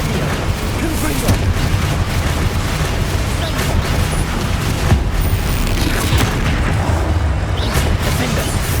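Dense, continuous barrage of booming spell explosions and blasts from the Hogwarts Legacy video game, loud and overlapping throughout with mechanical clatter and muffled voices underneath.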